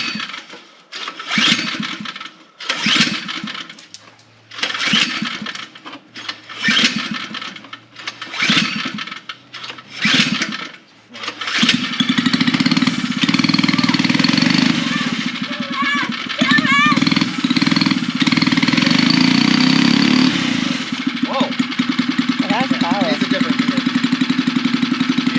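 A small gas engine on a homemade Power Wheels build sputters through repeated start attempts with uneven bursts, then catches and runs loud and steady at close range, with people talking nearby.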